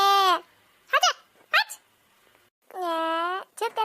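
A dog close by gives short sharp barks between longer drawn-out whining cries, loud and clear with pauses of quiet in between.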